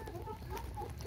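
Índio Gigante farm chickens clucking in short, close, soft calls that repeat irregularly over a steady low background hum.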